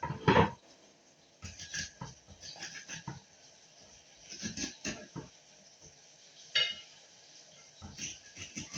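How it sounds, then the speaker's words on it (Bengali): A knife cuts red vegetables in a home kitchen, giving sparse, irregular taps and clicks against a board, some sharp and close, with quiet gaps between strokes. "আমি এইটা কেটে নিচ্ছি"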